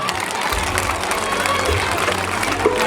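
A crowd at an International Women's Day celebration held by elementary school teachers in Aéré Lao bursts into loud, dense applause mixed with a general crowd roar for about three seconds, with no distinct speech.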